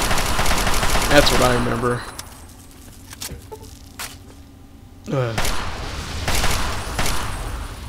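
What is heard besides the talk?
gunfire in the video game Fallout 3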